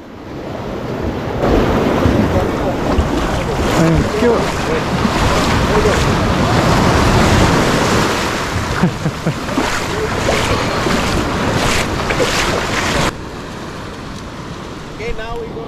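A boat pushes through ocean surf toward a wet landing at Sirena in Corcovado National Park, Costa Rica, with loud steady wash of waves, rushing water and wind buffeting the microphone throughout, easing slightly near the end.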